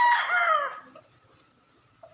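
A young stag rooster in a small backyard poultry pen gives one clear, close crow, followed by near silence and a brief faint cluck at the end.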